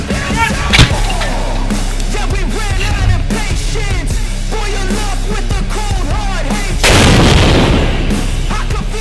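Artillery fire by the 80th brigade against an enemy mortar section, with sharp booming blasts and heavy reports over a dense, noisy battlefield background, one big blast standing out late.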